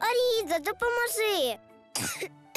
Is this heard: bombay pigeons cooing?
no